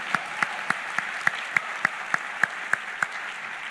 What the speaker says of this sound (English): Round of applause for the Judge,